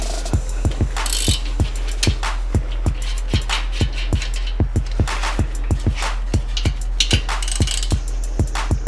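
A ratchet wrench clicks in a steady, rapid rhythm while cracking loose the 14mm stock brake caliper bolts on a Subaru WRX, each sharp pawl click close and distinct, with no talk over it.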